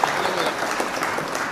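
Crowd applauding to welcome guests at a mushaira poetry gathering and honour ceremony in the Nagar Panchayat grounds at Harra, a brief burst of broad, steady clapping from many people, mid-distance and evenly loud.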